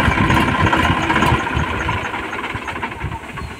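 A modified Massey Ferguson 7250 tractor engine turns over and settles into a steady diesel idle with a rough knocking rumble, loud and close, with no voices.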